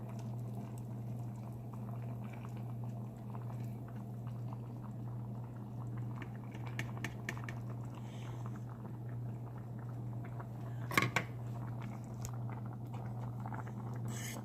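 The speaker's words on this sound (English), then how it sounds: "It's all mixed, so you just want to pour it in there." Steady low bubbling of a boiling pot of oxtails and black-eyed peas, with quiet liquid pouring and pattering into it, and one brief sharp clink near the end.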